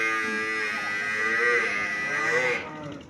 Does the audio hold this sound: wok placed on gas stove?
no